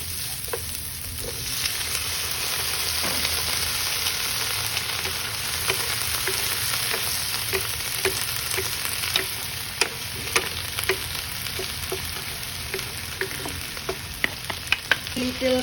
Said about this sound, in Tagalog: we're gonna saute the onions, spring onions, and the chili